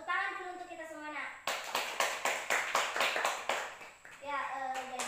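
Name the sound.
class clapping hands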